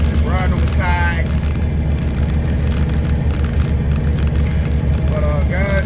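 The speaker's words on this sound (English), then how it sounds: "might have this loud truck over here" A loud semi truck drives close by on a street in Atlanta, its heavy engine rumble steady and dominant throughout, with someone talking over it.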